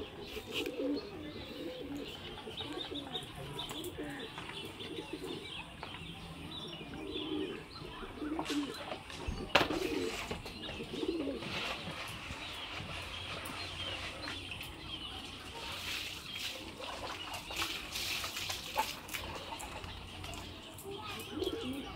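Pigeons being fed grain coo softly and repeatedly, with chirps and scattered flutters close by over a quiet outdoor background.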